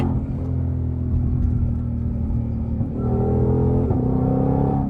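A Shelby GT500 engine with a dual-clutch transmission rumbles steadily, then revs rise with a quick shift as the note climbs and steps again, heard from inside the car without talk.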